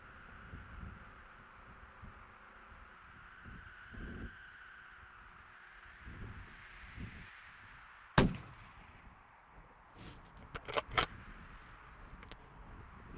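A rifle shot cracks once, sharp and loud, during a stone sheep hunt in quiet open country, followed by a few fainter clicks and knocks as the shooter works the gun.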